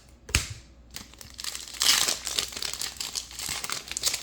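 Foil trading-card pack torn open by hand, a steady run of close crinkling and crumpling with a sharp rip near the start and bursts of louder tearing through the middle, no talk.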